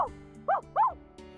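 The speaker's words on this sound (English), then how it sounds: "Kotaro's barking got high-pitched." Kotaro, a small dog in a visual novel, gives a few short, high-pitched yips and whimpering barks, spaced out and close, with a faint musical backdrop.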